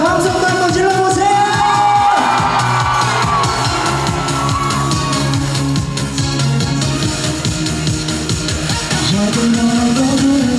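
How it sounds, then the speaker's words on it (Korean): A festival concert crowd at a cheese festival in Imsil yells and whoops loudly over pounding trot music, the shouting blending into a dense, sustained roar. "여러분 함성도 한번 질러보세요"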